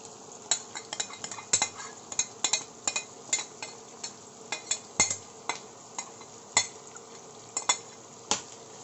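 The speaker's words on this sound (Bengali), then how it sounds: "ভালো করে তেলের সাথে মাখিয়ে নিচ্ছি পেঁয়াজটাকে" Chopped onions are stirred in hot oil in a pan with a spoon, giving a faint steady sizzle under frequent irregular scraping clinks of utensil against the pan, and no voices.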